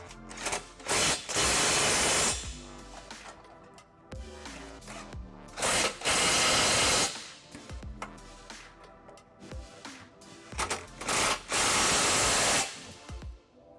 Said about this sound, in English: I'm gonna go ahead and tighten each bolt with a 18mm socket.